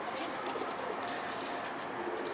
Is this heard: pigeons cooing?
yes